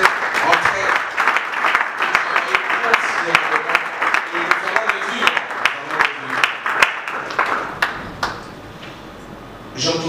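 An audience at an awards ceremony claps together for a few seconds with sharp individual claps over a murmur of voices, then thins out and fades as the room quiets.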